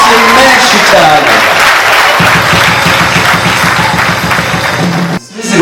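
Wedding guests clap in a dense, loud burst that runs for several seconds over a voice speaking, then stops abruptly near the end.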